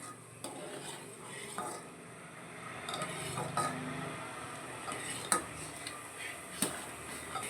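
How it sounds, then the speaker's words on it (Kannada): A steady, hissing sizzle of butter simmering into ghee over low heat in a pot, with occasional light clinks and scrapes of a utensil against the metal. "ಕಡಿಮೆ ಉರಿಯಲ್ಲೇ ಈ ಥರ ಬೆಣ್ಣೆಯನ್ನು ಕಾಯಿಸ್ತಾ ಇರಬೇಕು."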